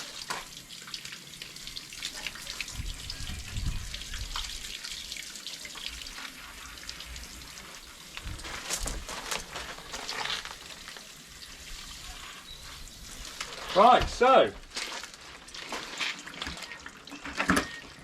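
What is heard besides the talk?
tap water running into a bucket of warm water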